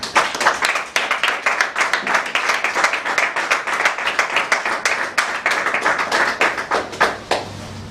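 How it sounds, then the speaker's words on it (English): A small Toastmasters club audience in Bamako claps to welcome a speaker, loud and close, with distinct rhythmic hand claps that run steadily and then taper off at the end. "Please help me under your warm applause to welcome Toastmaster Musa Traore."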